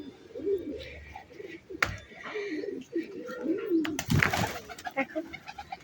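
Several pigeons by a rooftop coop give soft, rolling coos, broken by a sharp wing flap and a loud flurry of fluttering, nearby and clear, with a little faint talk.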